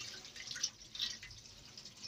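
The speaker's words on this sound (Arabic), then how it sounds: "ابتدي اقعد اغسل فيه بالطريقه دهيت لحد ما اخلي الميه بتاعته تبقى رايقه جدا" Water sloshes and drips quietly as lentils are rinsed in a bowl. Soft, uneven splashes and trickles come close by, with small bursts about half a second and one second in.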